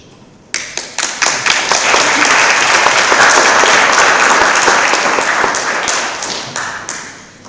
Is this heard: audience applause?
yes